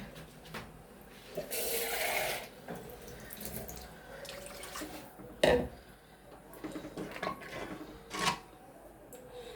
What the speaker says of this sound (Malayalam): വെള്ളം ഒഴിച്ചോട്ടെ